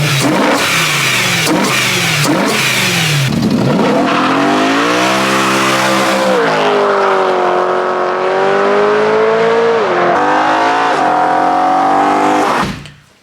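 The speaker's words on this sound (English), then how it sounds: "Today we are going to be transforming the sound that this V8 makes." A BMW V8 engine with open velocity stacks revs in several sharp blips, then holds a loud, sustained roar that rises and falls in pitch before cutting off abruptly.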